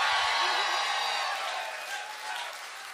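Festival audience at a Tónaflóð concert in Bíldudalur, Iceland, cheering and applauding for a singer: dense, steady clapping and crowd noise with scattered whoops, loud at first and easing slightly over three seconds.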